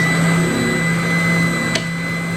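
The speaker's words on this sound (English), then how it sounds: "I'm going to sand that on this spindle sander. So I turn the machine on" A stationary spindle sander runs in a shop, giving a steady, loud motor whine and hum with a constant tone throughout and one brief tick near the end, with no talking.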